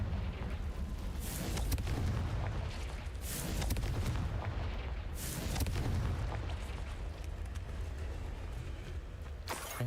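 Fiery Confringo blast spells in a Hogwarts video game, a run of loud booming bursts and crackling explosions over a dense rumbling game soundscape, with a sharp final crack near the end.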